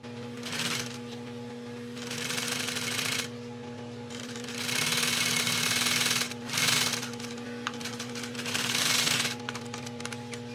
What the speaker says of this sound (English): So start out by sewing both pieces together, still allowing for a 1/2 inch seam allowance.